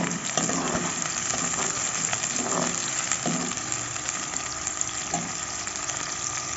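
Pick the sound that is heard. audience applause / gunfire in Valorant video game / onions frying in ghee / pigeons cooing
onions frying in ghee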